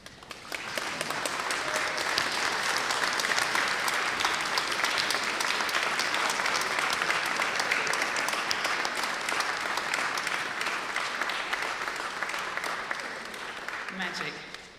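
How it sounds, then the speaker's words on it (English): Graduates at a Bath Spa University winter graduation ceremony stand and applaud, a large hall filled with loud, continuous clapping that holds steady for well over ten seconds and fades only at the very end. "could you stand up and applaud the people you care about?"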